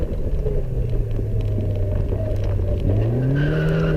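Race car at full throttle on a sprint lap of Rushmoor circuit, a steady loud engine drone from inside the car with a rising gear-change pitch sweep near the end, no voices.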